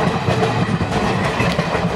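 A Rajdhani Express diesel train hauled by a WDM locomotive, running at about 60 under an 80 speed limit toward Chennai Central, runs steadily on rails, a loud continuous rumble with clickety-clack wheel rhythm heard from on board, no voices.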